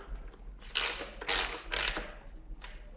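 Exhaust canister fasteners being tightened with a ratchet during a Graves Link full exhaust install on a 2013 Yamaha R1, three quick close clicking ratchet bursts and a fainter fourth.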